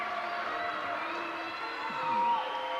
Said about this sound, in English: And listen to the fans applaud.